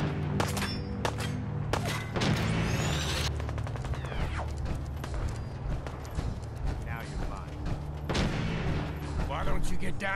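Gunfire crackles through Fallout 3 gameplay, with scattered sharp shots and bursts mixed into busy game noise and clopping sounds, while a voice talks over parts of it.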